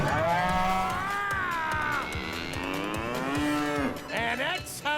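A cow moos in long, drawn-out, wavering calls, loud and close, with a short break before a final rising moo, and no talking.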